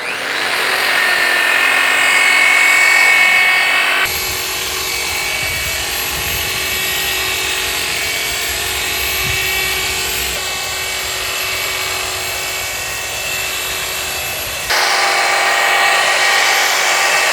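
Stainless steel part sanded with 320 grit sandpaper greased with tallow, a steady, loud, high abrasive whir from a power sander that runs continuously and shifts tone partway through.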